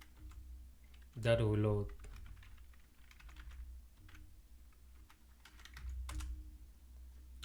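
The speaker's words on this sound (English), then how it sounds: "we want to simply type UI view" Typing on a computer keyboard, a quick burst of close clicking keystrokes alongside a few scattered taps, with someone speaking briefly over it in a quiet room.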